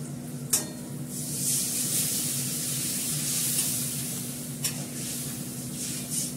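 Masala paste sautéing in a pan gives a continuous close sizzle and hiss under a low steady hum, broken by a couple of sharp utensil clicks, with no talking.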